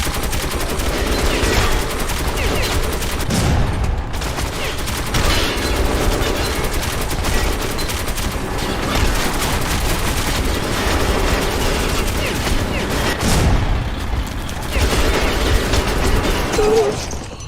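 Sustained gunfire in Metro 2033 runs loud and close with steady automatic bursts, interrupted by a few heavier booms near the start and again late on.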